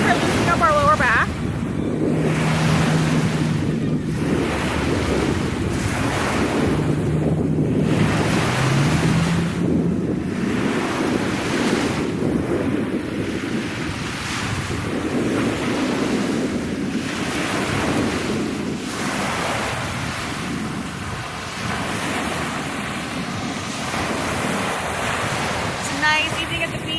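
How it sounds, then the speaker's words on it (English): Evening ocean waves crash on a beach in a steady rolling wash, mixed with strong wind buffeting the microphone throughout. "Nice evening at the beach with crashing beach waves, the sounds in the background."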